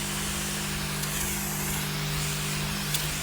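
A steady, loud spray hisses without a break as a combine harvester is washed down, accompanied by a constant low engine-like hum throughout.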